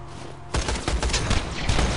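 Rapid gunfire from Borderlands 2 game combat, a loud, dense burst of overlapping shots that starts abruptly about halfway through and keeps going without a break.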